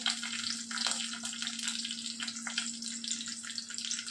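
Steady crackling sizzle of whole spices and green chillies frying in hot oil, with small pops throughout and a low hum underneath.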